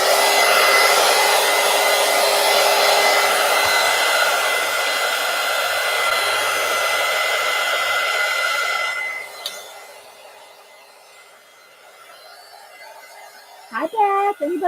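A hair dryer blows loudly and steadily, drying matte medium on collage paper made from Gelli plate prints, then cuts off around nine seconds, leaving a quiet room and a brief voice near the end.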